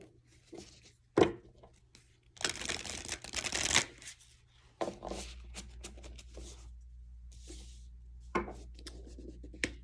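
A Moonology oracle card deck is shuffled up close in several bursts of riffling and sliding cards, with taps and rubs between them in a quiet room.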